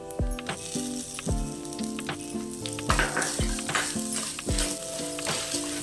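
Horse gram and other ingredients crackle and hiss as they dry roast in a hot pan, with repeated scraping and stirring knocks in a steady rhythm throughout.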